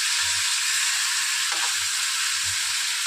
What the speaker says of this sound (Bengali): এক পিট করে একটুখানি ভাজা করে